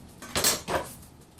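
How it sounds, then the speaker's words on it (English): A knife chops the ends off an onion on a kitchen board, two close, solid chops in quick succession, the first louder, with a little clatter and no talking. "for the onions, I'm just chopping the ends off"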